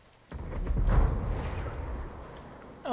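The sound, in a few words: explosion in Ghost Recon video game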